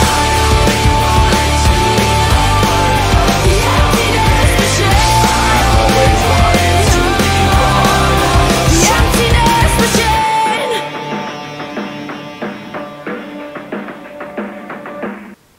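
A rock song plays loud and dense, with full band and vocals, then drops to a quieter, sparser ending after about ten seconds.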